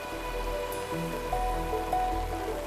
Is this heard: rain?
yes